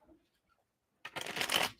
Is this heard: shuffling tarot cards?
yes